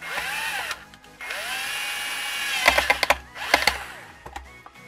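A power drill drives screws into wooden boards being joined as a hinge, giving a whirring spin that rises and falls, then several short sharp bursts close by.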